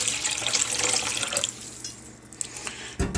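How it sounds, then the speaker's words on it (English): Water pours steadily into a spiritism fountain goblet holding purifying leaves and herbs, a continuous splashing stream that eases off halfway through and ends with a soft knock. "I'm going to add some water."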